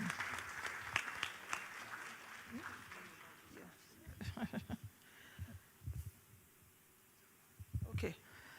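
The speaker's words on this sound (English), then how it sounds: "Please, a round of applause." Scattered audience applause for a speaker at an African emerging markets forum in a large hall, soft and distant at first, then thinning out, with low voices and thumping handling noises beneath.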